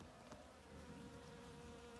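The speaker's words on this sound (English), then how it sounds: "The bee are very busy buzzing." Bees buzz steadily among blooming dragon fruit flowers, a faint, continuous insect drone close by with no talking.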